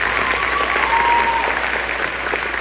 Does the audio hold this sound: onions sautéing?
no